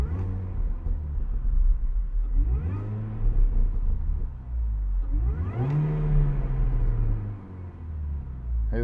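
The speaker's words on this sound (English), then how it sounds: "Let's go ahead and give you a couple revs." Supercharged MINI Cooper S R53 engine revved several times, each rev climbing and falling in pitch with a rising whine over a close, rumbling idle between blips.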